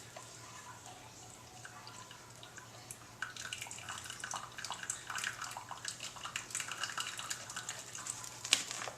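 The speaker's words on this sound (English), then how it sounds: "I'm going to pour out the water to this." Hot water poured out of a pot splashes and trickles from about three seconds in, a steady close-up gush with scattered drips over a faint background hum.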